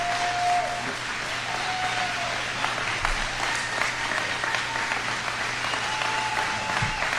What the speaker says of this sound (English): Because they clap for a minute.